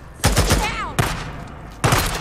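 Bursts of gunfire in the PS5 game Days Gone, loud and close, with rapid shots around a quarter second, a second burst near one second, and another cluster near the end, over a steady background.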